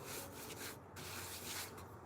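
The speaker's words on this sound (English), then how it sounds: "Do a little sanding." Wood is sanded by hand during a woodworking session, a soft, close, steady rubbing rasp that swells and dips in repeated strokes with no talking.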